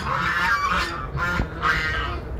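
Geese honk loudly at a market selling birds, three harsh, drawn-out calls close by with continuous background noise.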